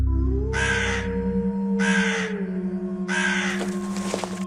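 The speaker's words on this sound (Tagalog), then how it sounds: "Yun yung huni ng ibong narinig ko noong nakaraang gabi ha." A crow caws loudly in three long, harsh calls separated by short pauses, close by, over a steady low hum.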